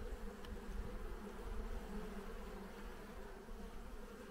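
Steady, dense buzzing of many Caucasian honeybees around an autumn hive, a continuous hum close by with no voices.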